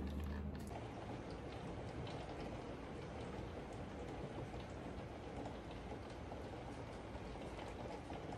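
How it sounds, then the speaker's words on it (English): Heavy rain pounds steadily on a house, a dense, constant roar close by with no talking. "This rain is so loud."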